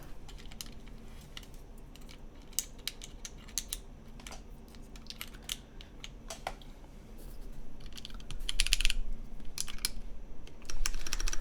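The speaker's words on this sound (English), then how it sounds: "This is my partner's keyboard" Fingers type on a custom mechanical computer keyboard, producing a steady patter of light clicks and clacks that grows a little louder and denser toward the end, with no talking.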